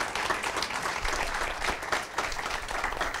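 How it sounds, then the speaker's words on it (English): Steady applause from a church audience honoring a member, a dense wash of clapping hands sustained evenly throughout at moderate loudness. "Would you give him a round of applause?"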